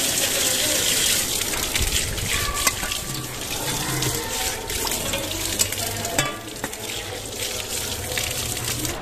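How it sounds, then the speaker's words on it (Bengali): Tap water runs to rinse a plate after a meal, a continuous close gush and splash with clatter and small knocks throughout, no voices over it. "থালাটাকে হালকা ধুতে হবে। এটা বলতে জল দিচ্ছি।"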